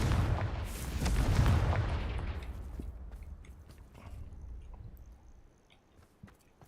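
A Confringo spell blast in the video game Hogwarts Legacy: a loud, deep booming explosion that swells over the first two seconds and then rumbles away into a long fading tail with faint crackling debris.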